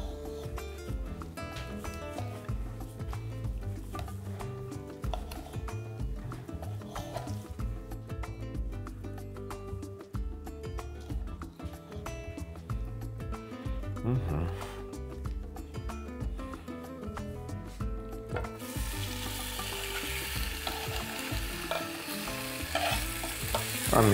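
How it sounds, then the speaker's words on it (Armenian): Halved chicken hearts frying in a pan, a steady close sizzle with stirring clatter throughout, no voices. "Հավի սրտիկները նախապես լվացել եմ, մաքրել եմ ջլերից, կիսում ենք ընդհանրապես մեջտեղից և տապակում ենք։"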